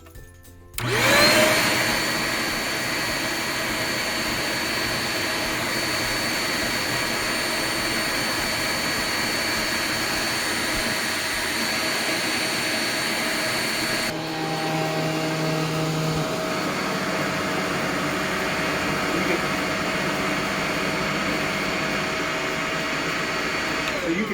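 A Riccar R25 upright vacuum cleaner roars steadily with its brush spinning, then the pitch and tone shift partway through as it switches to a lower speed and settles into a softer drone.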